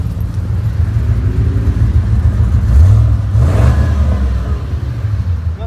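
A supercharged 2008 Ford Mustang GT 4.6 with a Stage 1 Kenny Bell system idles with a deep, loud rumble, then revs up once with a rising whine before settling back, heard up close with no talk.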